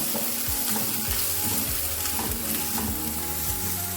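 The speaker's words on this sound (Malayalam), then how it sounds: "ഇത്രയും ഇട്ട് ആദ്യം നമുക്ക് വഴറ്റാം. ഇതൊന്ന് വഴറ്റി കൊടുക്കാം." Anchovies with garlic, green chillies and curry leaves are sautéed in a hot pan, giving a dense, constant sizzle broken by quick stirring scrapes up close.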